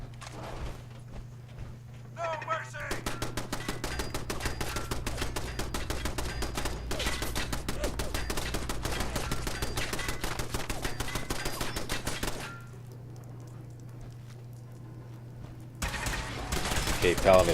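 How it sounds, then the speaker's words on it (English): Turrets fire on a Paladin in Fallout 4, rapid sustained automatic bursts rattling in a fast steady stream for about ten seconds, then stopping abruptly before a short final volley, with a low hum underneath. "Bunch of turrets assaulting Paladin"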